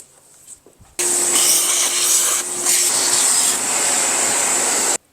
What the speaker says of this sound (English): I'm going to vacuum up some of this debris that's in here.